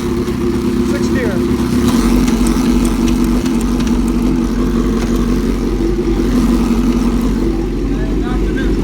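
A 2005 Suzuki GSX-R 750 motorcycle engine runs steadily and loudly up close, droning evenly as it is worked through the gears while someone speaks over it.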